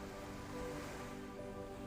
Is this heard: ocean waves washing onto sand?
yes